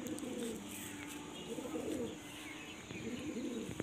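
Ready-to-fly Lalsira and Madrashi breed pigeons give three rolling, throaty coos at a steady pace, close by and fairly loud, with faint chirps over a low background hum.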